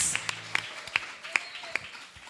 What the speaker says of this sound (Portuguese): Você pode dar um forte aplauso